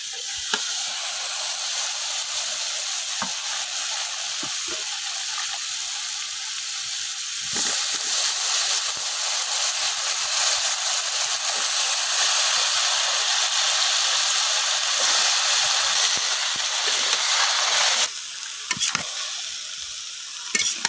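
Vine stems fry in cooked spice paste in a pan, a loud, steady hissing sizzle close by that flares up sharply partway through, with occasional stirring clatter.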